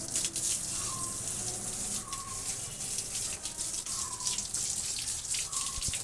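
Water splashing and trickling steadily while a cow is bathed on a farm, with faint bird chirps recurring in the background.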